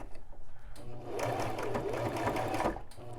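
A Brother LX3817 sewing machine stitches a blind hem on thick knit fabric, a close, rapid mechanical chatter that runs steadily with a brief pause at the start and stops near the end.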